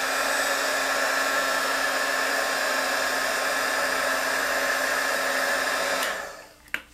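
A hair dryer runs at a steady, loud roar while drying a paper dahlia flower, then cuts off abruptly near the end, followed by a brief click and quiet.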